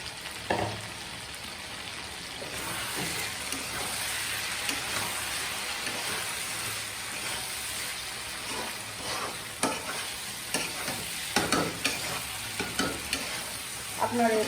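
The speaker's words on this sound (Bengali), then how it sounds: "আমি এখন দিয়ে দিব ভেজে রাখা ডিমগুলো।" Fried eggs dropped into a sizzling eggplant curry in a pan, a steady loud frying hiss throughout with scattered crackles and stirring clatter toward the end, no speech.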